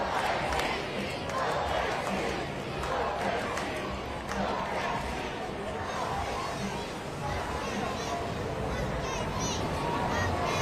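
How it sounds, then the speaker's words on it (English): A huge crowd at the Oklahoma City Thunder championship parade in downtown Oklahoma City roars and chants OKC, dense and loud, the noise filling the whole stretch with no single voice standing out. "You can hear the OKC chants so loud"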